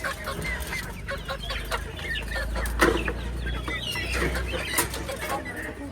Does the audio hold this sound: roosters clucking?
yes